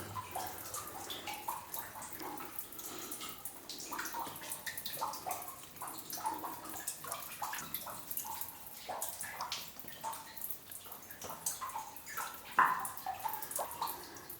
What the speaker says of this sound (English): we have this single stalactite with a steady stream of water dripping off of it